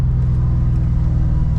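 Deep, steady rumble from an Audi RS4's engine, heard from close inside the car, holding an even low drone throughout with no talk over it.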